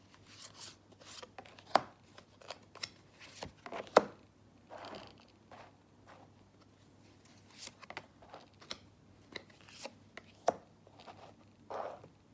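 Tarot cards are shuffled for a reading, giving soft irregular riffling and slapping bursts, close and fairly quiet, scattered across the clip with short pauses between them.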